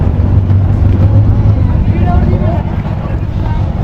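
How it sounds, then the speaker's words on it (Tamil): Abra water taxi ride in Dubai, a small wooden boat with a chugging motor; a steady low engine drone with wind buffeting the microphone, and people talking over it. "ஒரு வழியாக உருவ போட்டில் ஏறிட்டோம் இதான் அந்த உருவ போட்டு"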